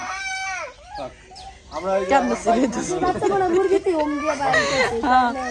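Chickens cluck and squawk close by while people talk over them, the clucking rising in busy bursts.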